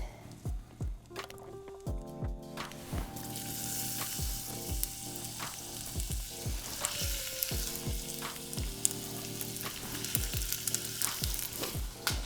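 Onions sweating with salt in a pan over medium heat give a steady, soft sizzle, broken by regular scraping strokes as they are stirred. Faint tonal music plays underneath.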